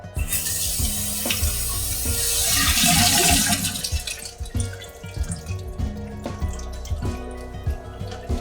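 Water gushes through a sink P-trap during cleaning, starting as a strong splashing rush that swells, then settles into lighter trickling and dripping with a few knocks.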